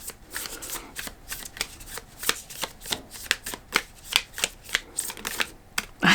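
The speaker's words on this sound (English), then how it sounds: "we're going to pull cards for you, Leo. I'm using a new deck called the Energy Archaeology Oracle" Oracle cards from an Energy Archaeology deck are shuffled by hand in a steady run of crisp riffling flicks and soft slaps, close and clear with no talking.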